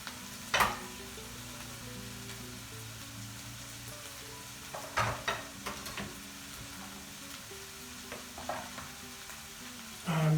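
Minced meat browns in a pot for a one-pot lasagne, a soft steady sizzle with a few scraping stirs of a spoon breaking through, quiet and close, with no voices.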